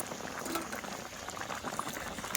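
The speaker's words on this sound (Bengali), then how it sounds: "এই যে তরকারিটা কিন্তু বিরাট জোরে ফুটছে" A vegetable curry boils vigorously in a pot, a dense close bubbling and popping that runs continuously at moderate loudness with no voices.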